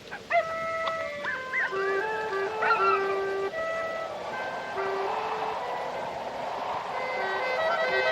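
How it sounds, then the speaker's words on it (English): Several dogs howl together at night, their long wavering cries drifting from a middle distance in an older film recording. The howls overlap and rise and fall, with some held tones and short yips. "Dogs are noisy tonight."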